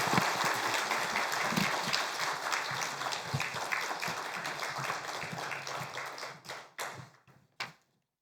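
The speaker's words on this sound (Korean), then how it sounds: "여러분 나오실 때 박수로 목사님을 맞이해 주시길 바라고" A church congregation claps to welcome the pastor, producing a dense, sustained roomful of applause that thins out and breaks into a few last scattered claps before stopping.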